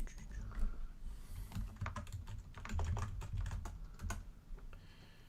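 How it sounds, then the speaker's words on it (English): Continuous computer keyboard typing with dense, uneven clicks and key taps at close range, heard alone during a fantasy basketball mock draft session. "Sorry if you hear a lot clicking and whatnot."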